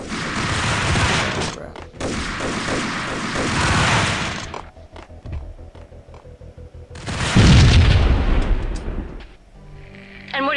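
Rapid bursts of Uzi gunfire and explosions in the video game Max Payne, dense and loud, with a heavy boom partway through and short pauses between volleys.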